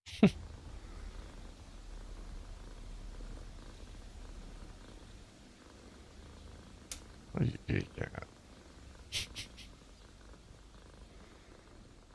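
A male cat purrs softly and steadily up close, a low continuous rumble, with a few sharp clicks later on and a brief word spoken.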